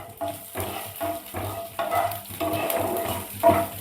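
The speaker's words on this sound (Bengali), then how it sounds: "ব্যাস, এইটুকুই আমরা তেলে একটু ফ্রাই করে নেব, হালকা করে, বেশি না।" Dry red chilli pieces fry lightly in hot oil for a curd rice tempering. A steady close sizzle is broken by regular stirring bursts and scrapes, with no talking.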